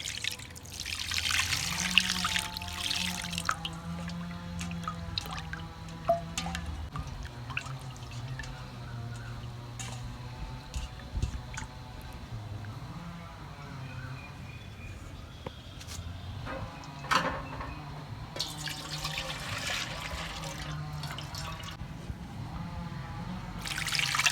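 Pieces of goat blood are rinsed under running water, a steady trickle and splashing with drips and handling, close by and continuous, no speech.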